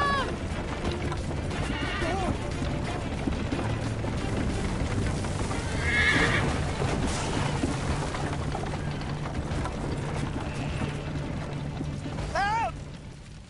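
Horse whinnies cut through busy action in Assassin's Creed Liberation, with several short neighs over a constant din of game noise, clatter and background effects.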